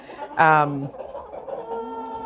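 A chicken lets out one loud, drawn-out cluck near the start, beside a winter coop in the northeast. Softer clucking from the flock follows and carries on in the background.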